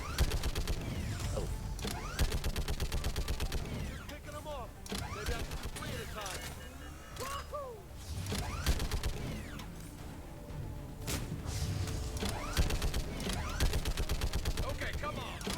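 Turret gunfire in Mass Effect 3: Legendary Edition, steady rapid mechanical shooting with clanking, whirring game effects running continuously throughout.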